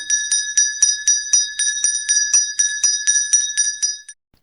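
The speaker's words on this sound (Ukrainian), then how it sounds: "Вірно, це дзвіночок." A small bell rings rapidly and evenly, about fifteen bright tinkling strikes over four seconds, close and clear, then stops.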